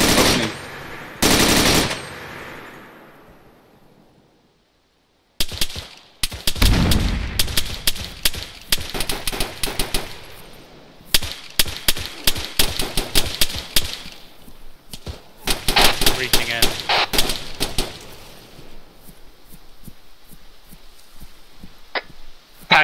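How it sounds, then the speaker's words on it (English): Bursts of automatic and single-shot gunfire from a compound in the ARMA 3 military shooter, loud and close. A sharp opening volley is followed by a short lull, then dense, ragged fusillades that keep firing to the end. "Gunfire coming in from the compound."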